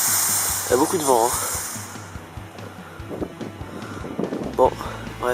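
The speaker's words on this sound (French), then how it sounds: "Il y a beaucoup de vent" Gusty wind buffets the microphone outdoors while green smoke flares are set off, a broad hiss fading after two seconds, with a person talking intermittently over it.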